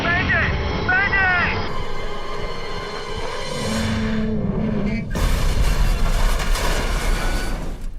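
Loud explosive boom and rumble from a helicopter crashing after engine failure in a Hollywood action movie, a burst of dense noise late in the clip after tense dramatic music and effects.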